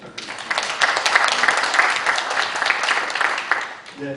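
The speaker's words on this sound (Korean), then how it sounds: "수고하신 김수진 의원님께 다시 한번 박수 부탁드립니다" Audience applause fills a symposium hall, a dense burst of many hands clapping that swells quickly, holds for several seconds, then fades before a voice begins speaking.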